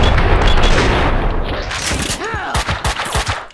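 Gunfire from the Max Payne 2 video game: a dense, loud volley of shots and booms, then several distinct sharp gunshots spaced across the end, with a brief tonal whoosh in between.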